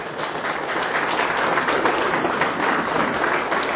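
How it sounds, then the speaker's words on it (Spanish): A church congregation applauds steadily, a dense wash of clapping hands holding at an even, fairly loud level throughout. "Vamos a darle un aplauso a Jesús."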